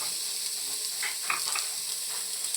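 Onions sizzle and crackle steadily in a hot pot, with a few soft stirring scrapes over the constant frying hiss.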